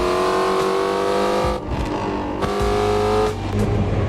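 A 770 HP Ford Mustang GT350 in the Assetto Corsa racing game roars through hard acceleration, engine note climbing then dropping sharply at each of two quick gear shifts, loud and close with no talking.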